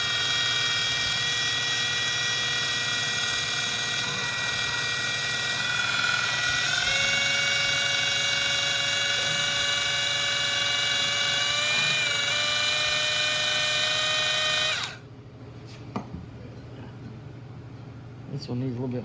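A high, steady whining rotary sander works on the end of a 1968 Honda Z50 motorcycle frame part, droning loud and close for a long stretch, shifting pitch slightly under load, then stopping abruptly.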